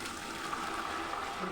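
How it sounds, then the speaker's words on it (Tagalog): Boiled water is poured out, giving a soft, continuous splashing gush that stays fairly even and faint throughout, with no voices over it. "Ibuhos na namin yung pinakuluan na tubig."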